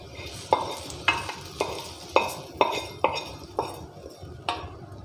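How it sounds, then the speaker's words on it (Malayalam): Tempered onions being added to a coconut-milk curry of ivy gourd and raw mango, then stirred with regular scraping strokes against the pot, about one every half second, close and clear over a low sizzle. "താളിച്ച ഉള്ളി നമുക്കിതിലേക്ക് ചേർത്ത് കൊടുക്കാം."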